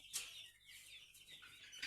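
Free-range village chickens cluck and chirp softly while pecking at homemade feed in the evening, a faint, close flock with short broken calls.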